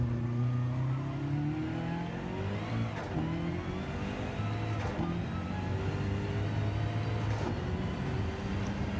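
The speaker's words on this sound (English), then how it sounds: "As I say, slow to accelerate this car" A BMW GT3 race car in Gran Turismo 7, in an endurance race at Spa, accelerates with a steady loud engine drone that climbs in pitch through repeated gear changes, each marked by a brief break before the rise resumes.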